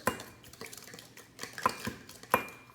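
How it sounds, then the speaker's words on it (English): Whisk clinking and scraping against a bowl while eggs are beaten for chocolate banana bread, a quiet, irregular series of sharp metallic taps close by. "Just spin it around, whisk the egg a little bit, mash it."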